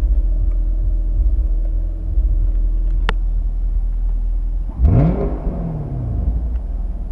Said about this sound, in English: versus when you put it in sports mode or track mode.